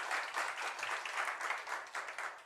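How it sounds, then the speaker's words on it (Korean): A church congregation claps together during a Sunday worship service, a fairly soft, even patter of many hands lasting a couple of seconds before fading out. "하나님께 영광의 박수 올려드리겠습니다."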